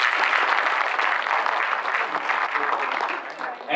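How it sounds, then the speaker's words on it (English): Audience at a leadership summit breaks into sustained, dense applause, a steady wash of many hands clapping close and loud that fades slightly toward the end. "A big round of applause for the Industry Interaction Committee for making this event a huge success."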